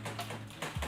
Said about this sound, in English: Sounds like a typewriter in the background.